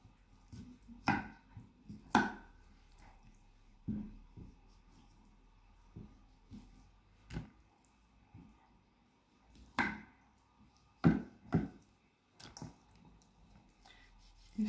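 A knife cuts small incisions into raw chicken drumsticks and wings, making scattered quiet taps and squishy cuts at uneven intervals against a near-silent kitchen background.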